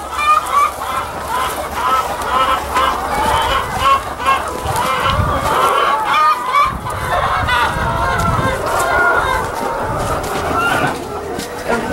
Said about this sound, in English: Trini, about how many chickens in each house would you say?